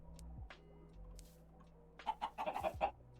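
Chickens in the Minecraft video game clucking in a quick run of short calls near the end, after a quiet stretch of faint game ambience.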